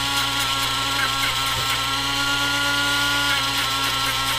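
A power tool runs steadily while sanding EVA foam with an abrasive, a continuous whirring drone with a constant loud level throughout and no speech over it.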